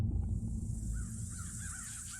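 A crow caws in a few short, repeated calls, faint and somewhat distant, beneath a steady low rumble of background noise.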